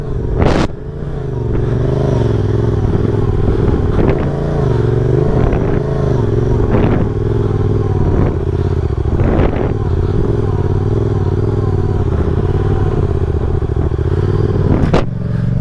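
A Yamaha FZ-07 motorcycle engine holds a steady loud high idle of about 5,000 RPM, a constant drone close by with occasional thumps and clatters from the bike.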